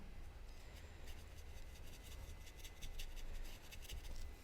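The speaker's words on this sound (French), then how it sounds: "Vous voyez, je caresse le papier." A hand strokes textured watercolour paper during an autumn window watercolour painting, giving a soft, continuous dry rubbing and brushing sound with gentle repeated swipes, close and steady, with no talking.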